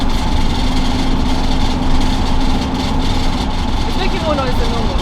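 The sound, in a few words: camper van driving on motorway, contents rattling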